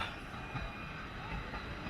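A small tourist train pulled by a locomotive in Biecz rumbles along in a continuous close, loud roll of wheels and carriage noise, with no talking.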